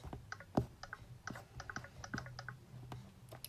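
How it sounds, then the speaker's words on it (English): An iPhone running VoiceOver makes soft, quick clicking ticks while the screen is scrolled, irregularly spaced and close up, with faint handling noise between them. "you see it's making that clicking noise like it usually does when I'm scrolling"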